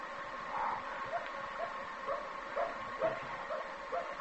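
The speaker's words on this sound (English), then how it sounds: "Maybe it's barking to be let in." A dog barks repeatedly at a distance, sounding muffled, with short evenly spaced barks over a quiet outdoor background, used as a sound effect in a radio drama set on a country road at night.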